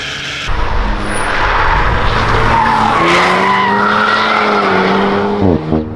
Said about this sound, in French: le moteur est super bien assorti à ce tempérament joueur. Il est pétillant, sonore, il prend ses tours.